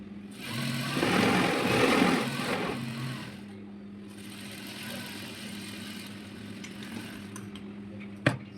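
A sewing machine stitches fabric with a steady mechanical whir, loudest over the first few seconds, then settles into a quieter hum and ends with a sharp click.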